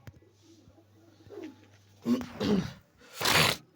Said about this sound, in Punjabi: ਗੁੜਕਦੇ ਫਿਰਦੇ ਆ ਕਬੂਤਰ ਆਪਣੇ